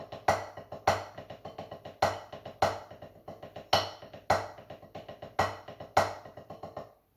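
Drumsticks play a rapid seven-stroke roll leading into an accented ruff, the pattern repeating in a steady, crisp rhythm.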